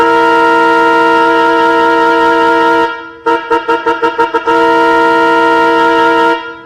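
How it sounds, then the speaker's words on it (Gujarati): A local passenger train on the Jetalsar to Bhavnagar Para line blows its whistle: a loud, sustained horn tone, a short burst of rapid toots, then another long blast close by. "ટ્રેન વિશલ મારે છે અને સફર શરૂ થાય છે"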